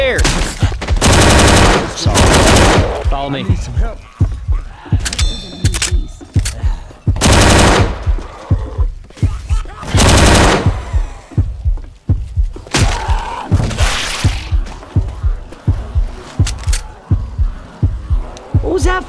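Bursts of automatic gunfire from the zombie shooter Left 4 Dead 2, played on a custom map at expert realism difficulty, repeat loudly in rapid strings with short gaps, while character voices call out between and over the shots.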